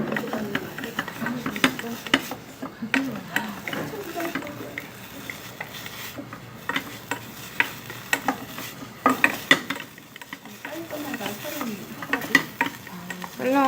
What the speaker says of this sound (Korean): 그래서 샐러리의 숨이 잘 죽을 수 있도록 볶아주세요.